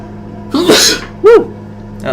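A person sneezes twice, first a sharp loud burst and then a shorter second one, close and clear against a quiet room, with a brief voiced sound trailing at the end.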